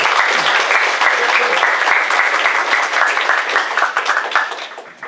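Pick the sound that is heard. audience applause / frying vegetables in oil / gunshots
audience applause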